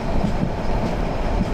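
A train rolls along rails as heard from inside a carriage, a steady low rumble with faint rhythmic clicks from the wheels and no voices.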